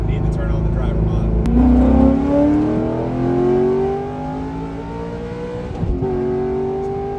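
A Corvette C6 Z06 accelerates hard from 60 to 130 mph, its engine note rising steadily through the gears with a shift break near the end, loud and close throughout.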